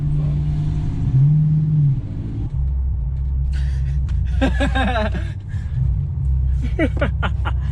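At a car meet, a Nissan Skyline R33 GTS-t with an RB25 engine rumbles and revs, a deep low drone rising and shifting pitch, close and steady, while people chat and laugh over it.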